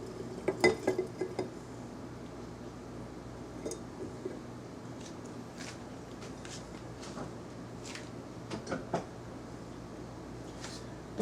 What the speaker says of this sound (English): Rinse out the blender a little bit.